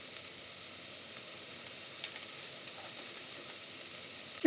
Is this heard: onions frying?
yes